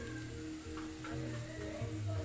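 Onion, ginger and garlic frying in a pan, a steady soft sizzle and crackle with scattered faint pops, held close and even throughout.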